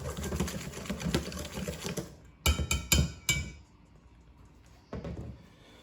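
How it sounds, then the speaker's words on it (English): A whisk rattles quickly against a bowl while mixing dry ingredients for a chocolate lava cake. A dense clatter of taps gives way to a few short separate bursts, close up, with no voices. "we want to grab the whisk, and we're going to incorporate a little bit of air into it"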